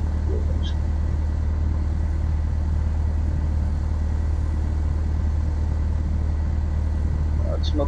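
A Cessna 172's engine idles at close range as the plane taxis and brakes near a fuel point, a steady low rumble running throughout with faint background noise.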